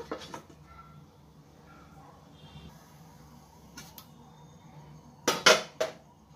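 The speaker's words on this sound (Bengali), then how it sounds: "আমি ঢাকা দিয়ে দেব। ঢাকা দিয়ে দিলাম একটু।" A lid goes onto a cooking pan of egg, landing with a quick cluster of sharp metallic clanks after a mostly quiet stretch with faint kitchen clatter.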